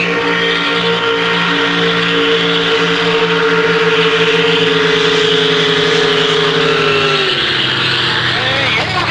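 Racing boats at a Canada Day boat race scream toward the finish with loud, sustained high-revving engine drones, the pitch dropping as they pass, under commentary.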